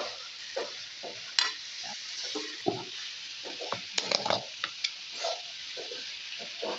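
A spoon scrapes and stirs pieces of chicken and pork frying in a pan, with scattered clacks and soft sizzling, fairly quiet and close, no talking.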